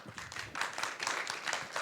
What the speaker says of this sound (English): So please give yourself a huge round of applause.